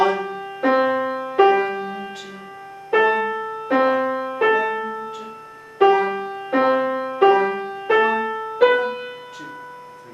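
A slow beginner piano piece plays through, single struck notes and chords landing one by one with clear decay between them, while a voice counts beats aloud over the playing.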